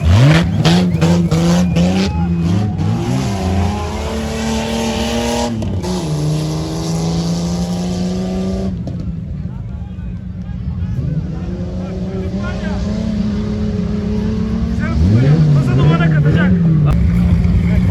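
An off-road race car accelerates hard at a Sapanca off-road race, its engine roaring loud and close with rising revs and gear changes, while excited commentary runs over it.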